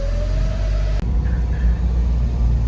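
A 1974 Toyota Corolla KE20 engine running steadily just after starting on choke, a loud continuous low rumble with a brief rising whine that cuts off at one point, close to the car.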